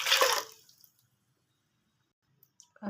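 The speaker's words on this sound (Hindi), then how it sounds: "अब हम इसमें पानी डाल देते हैं।" Water is poured into a mixture of ground chickpea lentils and yogurt for pea kadhi: a short, close splashing pour fades out, followed by silence and a few faint drips and sloshes.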